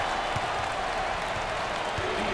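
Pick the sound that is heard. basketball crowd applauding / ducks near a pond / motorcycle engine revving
basketball crowd applauding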